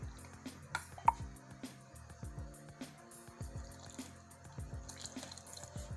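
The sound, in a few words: water being poured slowly into gram flour batter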